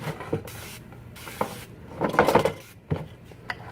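Several short hissing sprays of glass cleaner from a spray bottle, spaced irregularly, close by with faint handling clicks between them.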